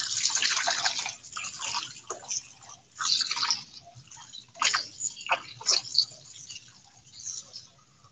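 Pickled mustard greens rinsed under running water in a kitchen sink, with splashing bursts that rise and fall irregularly as the leaves are moved under the close, fairly loud stream.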